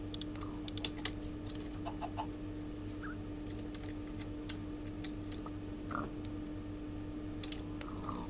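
Minecraft chickens clucking in short, sparse bursts, fairly faint, over a steady low hum and scattered keyboard clicks, with no talking.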